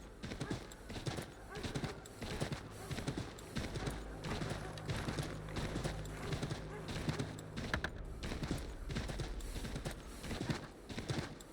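Horse hooves clip-clop steadily during riding in Assassin's Creed III Remastered, a continuous rhythmic trot lasting throughout, fairly quiet, with game ambience underneath.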